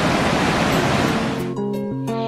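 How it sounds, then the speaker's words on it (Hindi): The Saraswati river near Bhim Pul in Mana village, Uttarakhand, roars as a loud, steady rush of flowing water, then gives way abruptly to music. "सरस्वती नदी आज भी भीम पुल के पास बहुत ज्यादा शोर करते हुए बहती है।"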